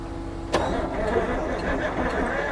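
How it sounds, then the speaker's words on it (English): An old skidder engine cranks on its starter, catches with a sharp burst about half a second in, then keeps running with a rough, steady rumble up close. "Hank, hit that starter button over and see if it'll do it"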